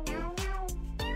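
Several short, insistent meows from a nearby cat follow one another in quick succession, nasal and tonal, heard alone in a quiet indoor space.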